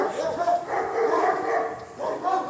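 A big dog gives a few short barks and yips in quick succession, moderately close, with people talking nearby.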